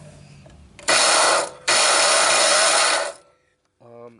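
A DeWalt 12-inch sliding compound miter saw runs with its belt-driven blade spinning, giving a loud, steady mechanical whir in two bursts separated by a brief pause, then winding down to quiet before a short tonal sound.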